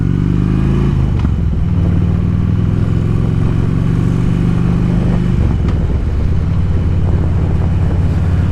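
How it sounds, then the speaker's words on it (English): A Harley-Davidson Road King motorcycle engine drones steadily and loudly, its low rumble shifting pitch a couple of times as it revs and settles. "I just really like the sound of this bike"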